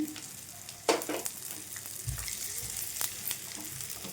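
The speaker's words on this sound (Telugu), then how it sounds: "మంచి గోల్డెన్ కలర్ వచ్చేంత వరకు ఈ కాకర ముక్క కాకరకాయలను అయితే వేయించుకోవాలండి" Bitter gourd pieces fry in a pan over a medium flame with a steady, close sizzle, broken by a few clinks and scrapes as they are stirred.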